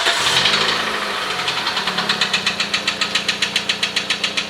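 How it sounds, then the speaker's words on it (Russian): Nissan Almera N16 engine idling with a knocking fault: a rapid, regular metallic tapping beats steadily over the running engine after a brief revving start, close and clear, with no talk. "Машина со стуком в моторе проехала через пол-Киева."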